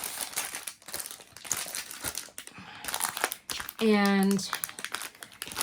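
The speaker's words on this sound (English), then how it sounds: "we can pull this out of the plastic" Plastic packaging around a sticker kit crinkles and rustles in close, bursty handfuls while it is unboxed, with a person talking over it and a brief tonal beep partway through.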